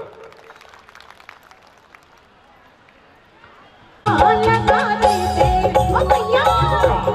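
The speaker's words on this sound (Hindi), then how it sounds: "तालियां बजाइए थोड़ा सा" Quiet crowd murmur and scattered claps at a devotional Devi jagran give way to loud music and singing that cut in suddenly halfway through, with a voice speaking early on.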